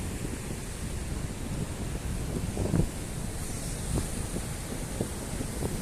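Sea and wind at Aare Ware beach make a steady roar of surf with wind buffeting the microphone, continuous and fairly loud with occasional low thumps, and no one speaking.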